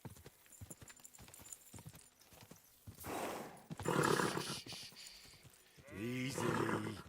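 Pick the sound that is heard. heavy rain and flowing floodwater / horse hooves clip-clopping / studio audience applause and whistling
horse hooves clip-clopping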